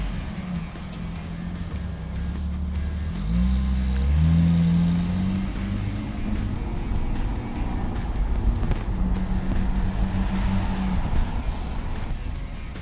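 A 1979 Datsun 280ZX engine cranks and catches a few seconds in, then settles into a steady, rumbling idle close by, with a slight rise in revs before evening out; no one speaks.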